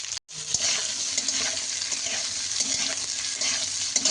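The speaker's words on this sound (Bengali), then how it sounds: "এবার এর মধ্যে দিয়ে দিচ্ছি কেটে রাখা পেঁয়াজ আর কাঁচা লঙ্কা" Chopped onion and green chilies sizzle steadily in a hot pan, a continuous close-up crackle and hiss with small stirring scrapes, after a brief silent gap at the start.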